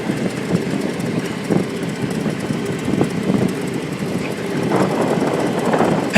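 A John Deere X724 riding tractor engine runs with the pedal held down, still warming up, giving a steady low rumble with slight surges and wind buffeting outdoors, growing a little stronger near the end.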